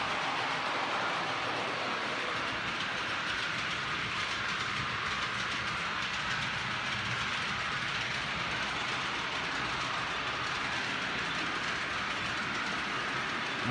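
Model railway trains on a track layout called Pengam Bridge run with a steady, dense rolling rattle and fine clicking that holds at an even level, with no talk.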